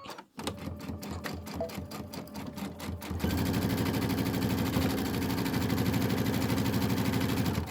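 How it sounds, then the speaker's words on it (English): A sewing machine runs over pillow top seams, first in slower stitching pulses, then racing into a fast, steady, loud mechanical whir up close. "Okay, sew the whole thing now."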